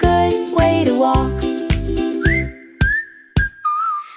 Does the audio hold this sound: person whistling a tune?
yes